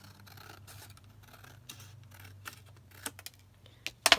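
Scissors snip envelope paper in a quiet room: soft scattered cuts and rubbing, with a few sharper clicks toward the end, close and faint, with no talking.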